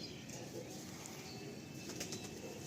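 Pigeons in a loft, including a male Fulsira pigeon, give soft, faint cooing and brief wing flutters under a steady, noisy background hum.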